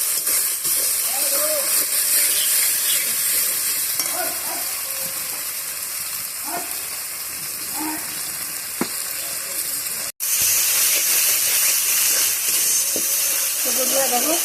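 Spice paste with ground cumin fries in a pan, giving a loud, steady sizzle with occasional stirring scrapes and a brief break near the end.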